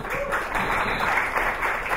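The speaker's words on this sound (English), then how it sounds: "Huge round of applause for Hugo," Applause from an expo audience welcoming a speaker from Passion Pictures, a steady wash of clapping held at an even level throughout.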